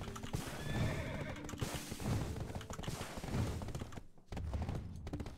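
Game horse in Black Desert Online neighing loudly over steady galloping hoofbeats, with a thud and a brief pause near the end before the hooves resume.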